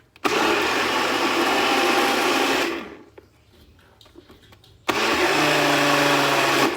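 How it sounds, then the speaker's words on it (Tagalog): An electric blender whirs loudly and steadily as it blends a strawberry smoothie of milk and ice cream, stopping for about two seconds before starting again at full strength. "And ayan, ready to blend na nga ito."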